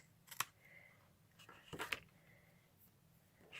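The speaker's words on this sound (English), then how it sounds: "I can see where I have to cut off the excess" Sharp, brief snips of scissors through card, a few separate cuts with quiet pauses between, close by.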